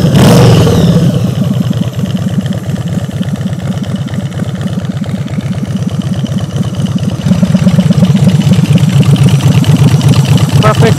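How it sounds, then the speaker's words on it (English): A custom Twin Cam bobber motorcycle with a dry clutch idles loudly and close by, a steady lumpy rumble with a rattling clatter, rising slightly toward the end. "Man, I love that dry clutch sound."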